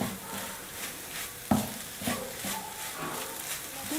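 Ground coconut cooks in a pan over a full flame for a carrot sweet, heard as a soft, quiet sizzle with light stirring scrapes and one sharp knock of a utensil against the pan.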